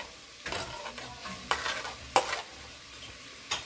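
Scallion, sweet pepper, onion and garlic fry in a pot for curry shrimp. A quiet, steady sizzle is punctuated by several bright crackling surges as the vegetables are stirred, with no speech.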